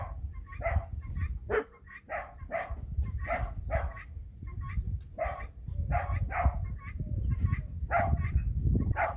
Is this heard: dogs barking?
yes